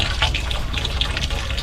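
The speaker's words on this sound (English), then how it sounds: "flush it through, and then fill up again, and then flush it through again" Water gushes steadily through RV water pipes and a hose during a flush, with a continuous hiss and faint sputtering bursts and no talking.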